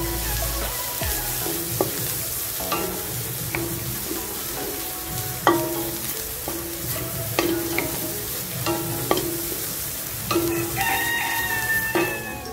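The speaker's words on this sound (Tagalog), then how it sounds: "Halu-haluin lang po natin siya hanggang sa maging crunchy siya." Kamaro mole crickets stir-fried in a pan until dry and crunchy: steady sizzle and scraping stirs with repeated sharp clinks of a spatula, a rooster crowing in the background throughout.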